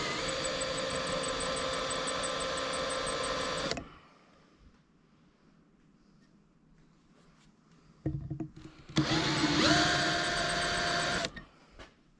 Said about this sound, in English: I'm sure you're all wondering why I'm drilling that.